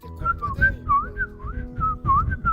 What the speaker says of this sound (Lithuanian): Čia mano švilpukas paukštukam.